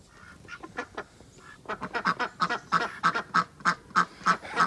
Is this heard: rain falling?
no